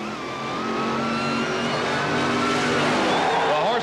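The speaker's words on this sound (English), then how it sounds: "The next pair of cars, the world champion from Calgary, Alberta, Canada, Brent Bramley in the dragster" A dragster and a Corvette funny car racing down the strip at the 1977 NHRA Springnationals, a loud sustained engine roar that builds and shifts pitch as the cars accelerate, with an announcer's voice faintly underneath.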